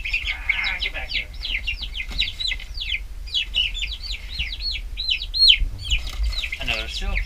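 Several three-week-old silkie chicks, white-feathered, chirp and peep in quick, rapid bursts close by, a steady chorus of high calls with a brief muffled rustle.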